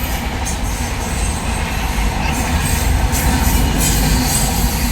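A train rolls past during a Palakkunnu Bharani temple festival, its steady rumble and wagon noise filling the whole stretch loudly and continuously, with faint rail clatter and no talk over it.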